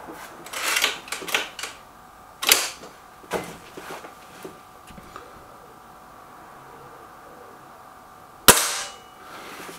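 Kral Devil and Gamo Whisper Sting air rifles fire pellets at a target, making a few sharp snapping cracks spread over several seconds with quieter clicks and handling noise between them.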